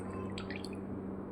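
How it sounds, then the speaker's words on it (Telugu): A couple of drops of floor cleaner liquid fall into water, faint soft drips over a steady low background hum. "కొంచెం పోస్తే చాలు, 2 చుక్కలు."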